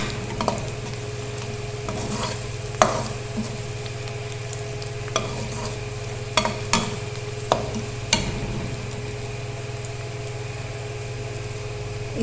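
Onions and cumin seeds frying in a pot for rice, a soft steady sizzle with occasional stirring clicks and scrapes, heard close and alone under a constant low hum.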